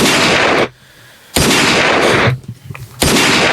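A loud gunshot sound effect on a podcast, three harsh broadband blasts in quick succession with short gaps between them, close and dominant.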